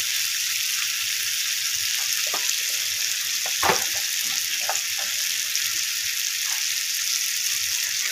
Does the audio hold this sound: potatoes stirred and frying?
yes